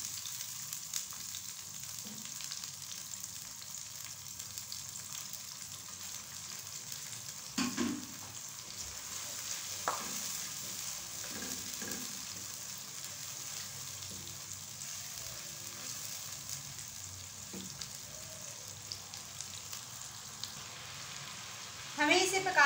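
Paste of a medium onion fries in a pan, a soft continuous sizzle with occasional stirring scrapes and small clinks, close and fairly quiet with no voices.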